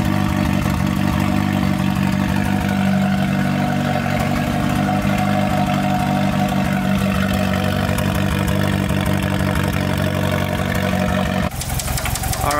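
A second-generation GSX car engine idles steadily after a cold start, up close and loud, with a heavy rhythmic knock running through it until the sound cuts off abruptly near the end.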